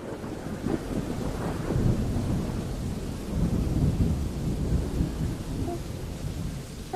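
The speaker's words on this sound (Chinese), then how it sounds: "就是响雷的声音和下雨的声音" A thunderstorm pours heavy rain in a continuous dense roar, with deep rolling thunder swelling and fading underneath throughout.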